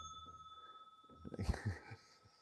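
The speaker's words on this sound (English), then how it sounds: "And I've got my little bell." A small bell is struck once, giving a clear ring that sustains and fades slowly, with a light knock and handling noise partway through as it is moved.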